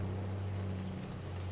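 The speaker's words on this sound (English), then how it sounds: "It's been so long since I've run this tractor with something behind it" A steady tractor engine drones in Farming Simulator 22 while mowing and mulching, a low constant hum with no change in pitch, running alone without talk for a brief moment.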